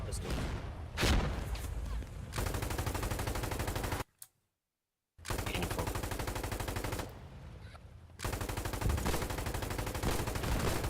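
Gunfire in the war game Foxhole, rapid rattling bursts of shots coming in long runs, broken by a short silent gap and a quieter stretch, loud and close.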